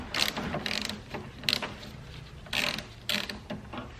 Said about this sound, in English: Now I'm just gonna finish loosening these nuts here and then we'll pull this off.